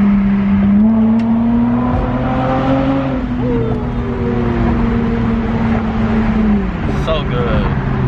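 A 2010 Acura TL with a loud aftermarket exhaust revs up and holds a rising, droning engine note before dropping off near the end, with talking over it.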